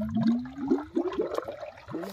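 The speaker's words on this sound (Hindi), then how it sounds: "ये देखिए गाइस निकल रहा है पानी" Water is drawn out of a village well in rustic desi style, gurgling and trickling in a series of rising, bubbly glugs, close and fairly quiet.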